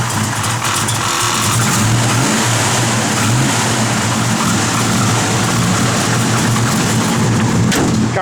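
A 1969 Chevrolet Camaro with aluminum heads runs at high revs, its loud, steady engine roar filling the whole stretch close to the microphone, with no talking.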